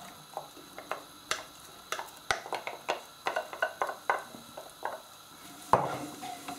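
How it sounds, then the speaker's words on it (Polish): Chopped onion hitting hot melted butter in a pan, a soft sizzle under a run of sharp clicks and scrapes of a utensil against the pan, fairly quiet and close, without voices. "Na rozgrzane masło wrzucam cebulkę."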